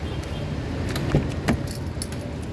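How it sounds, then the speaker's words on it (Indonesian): Keys jangle and lock clicks sound up close while a 2012 Daihatsu Terios 1.5 TX manual is unlocked and opened, with a few sharp metallic taps over a low background hum. "Oke, kita buka mobil, sekarang kita masuk ke dalam."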